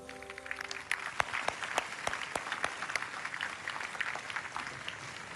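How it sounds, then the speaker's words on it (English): A crowd at an award ceremony in Abu Dhabi claps steadily for several seconds, sharp individual claps standing out over a dense wash of applause, with no talking. "Let's have another round of applause"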